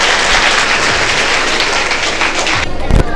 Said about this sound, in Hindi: तो इनके लिए एक तालियां तो बनती है।